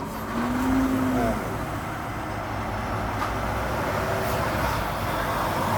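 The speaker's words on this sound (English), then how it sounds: "there's another truck that's headed" A truck rumbles past on a road, a broad steady roar of traffic that swells slightly early on and then holds at a constant level, heard from outside with no clear talking.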